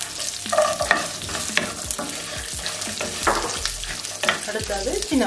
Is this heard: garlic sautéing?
yes